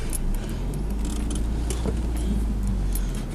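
A car is driven along a road with a loud, steady engine and tyre rumble throughout, plus light rattling and jangling inside the cabin, close and continuous with no talking.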